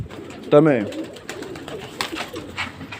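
Pigeons give a short, close coo, followed by faint shuffling and soft background noise, with a voice speaking at a low level nearby.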